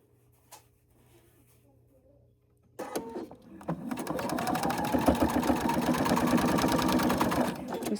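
After a few quiet seconds, a sewing machine starts up and runs steadily, whirring close and fairly loud while stitching a small fold-and-store fabric basket, with no talk over it.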